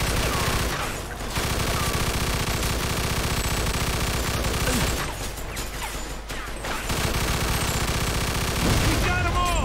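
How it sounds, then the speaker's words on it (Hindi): An MG42 machine gun in Mafia 2 fires sustained loud bursts with short pauses, dense and close, layered over game sound and a voice talking. "MG42 को क्या यूज किया बंदे ने यार, मजा आ गया"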